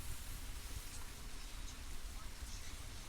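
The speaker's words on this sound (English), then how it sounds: "Looks like it's raining all night long." Steady rain falls over an outdoor evening soccer match in the Greater Toronto Area, a continuous even hiss with low rumble and no clear talk.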